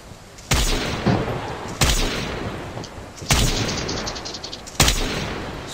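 Shotgun blasts in Call of Duty Mobile during a Rambo bundle match: four loud, booming shots spaced about a second and a half apart, each with a long rumbling tail, and no talking.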